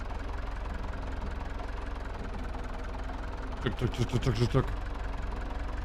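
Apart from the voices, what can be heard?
old tractor engine in low gear, from video game Farming Simulator 22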